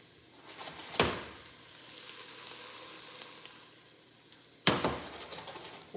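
Onions fry in a pan with a soft, steady sizzle, quiet and close, broken by two sharp clattering bursts of stirring or contact with the pan, and no talking.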